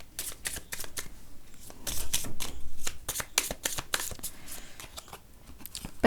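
Tarot cards are shuffled close up in a quick run of crisp riffling snaps and flutters, rising in loudness midway and carrying on without any talking.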